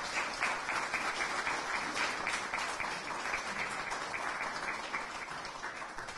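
Audience applause at a municipal council installation in Maromme, a steady wash of many hands clapping indoors that continues evenly for several seconds before easing slightly, with no speech.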